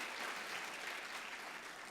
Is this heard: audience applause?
yes